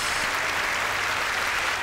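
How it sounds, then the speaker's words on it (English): A crowd at a faith show audience applauds steadily, a dense wash of clapping held at an even level throughout, with no voices over it. "Let's give Jesus a round of applause"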